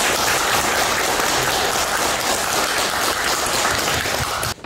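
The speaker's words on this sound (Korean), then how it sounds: "박수 한번 부탁드립니다" Audience applause at a company lecture at Samjin Industry's Jeonju plant, a steady dense clapping from a room full of people that holds at an even level for several seconds before cutting off abruptly.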